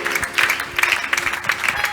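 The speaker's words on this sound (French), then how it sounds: "Acclamons très fort." Church congregation applauding during a French-language healing and deliverance service, a steady patter of clapping hands with rhythmic swells, moderately close and mixed with crowd noise.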